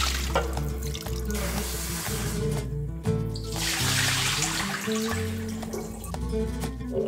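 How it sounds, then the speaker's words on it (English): Water drains and rinses from an air fryer basket after a cleaning soak with a dishwasher tablet, a steady close splashing and trickling with drips, under a low humming tonal background with no talk. "Drain the water, rinse it,"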